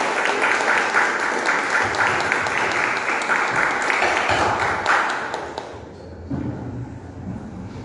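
A church congregation claps and cheers to welcome an apostle, dense applause lasting several seconds before thinning out into a few scattered claps and quiet.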